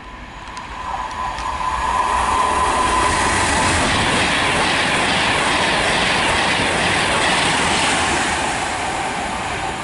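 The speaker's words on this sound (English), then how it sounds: "passing through now is a service from Manchester Piccadilly to London Euston" A Manchester Piccadilly to London Euston passenger train runs through a station on the West Coast Main Line at Nuneaton, a loud, steady roar of wheels with faint clickety-clack and a brief high squeal, holding near for the whole span.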